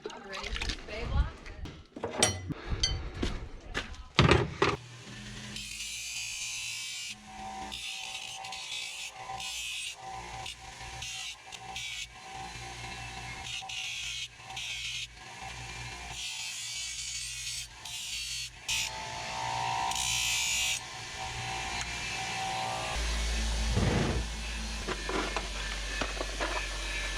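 Handmade farrier horseshoes being ground, a harsh abrasive whir with bursts and pauses, close and loud, broken by short gaps and handling noises.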